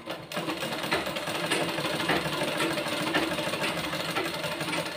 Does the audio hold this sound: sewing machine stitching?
yes